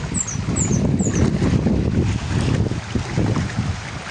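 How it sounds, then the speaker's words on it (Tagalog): Strong habagat monsoon wind blows at sea, a loud continuous rushing buffet with low rumbling gusts and a few faint high whistles near the start. "Hangin habagat pa lang yan pero malakas."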